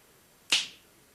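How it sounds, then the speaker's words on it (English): A single sharp finger snap, close and crisp, standing alone against near silence with a quick decay. "Now, I'll do it just by snapping my fingers."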